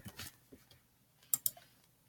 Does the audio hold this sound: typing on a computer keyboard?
yes